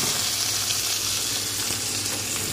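Chopped onions hitting hot oil already seasoned with whole garam masala (cardamom, cloves, cinnamon), giving a steady, loud, dense sizzle that fills the whole stretch with no voices.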